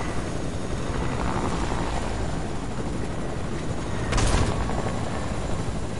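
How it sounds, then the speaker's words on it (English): A video game helicopter drones steadily with a thick rotor wash, loud and up close, swelling briefly near the end. "I'm taking the helicopter."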